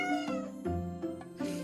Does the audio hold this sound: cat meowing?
yes